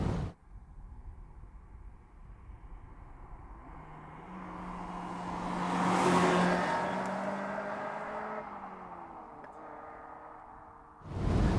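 A Mazda MX5 NC fitted with BBR throttle bodies passes by, its engine note swelling as it nears and climbs in pitch, loudest at the midpoint, then fading away with a steady whine.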